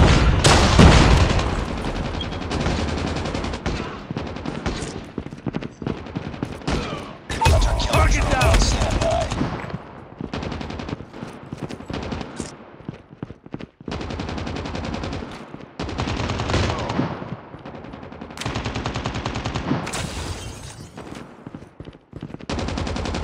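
Rapid automatic gunfire and explosive bursts from a Call of Duty Mobile match, loud and near, firing in long dense volleys with short pauses, while players talk over the shooting.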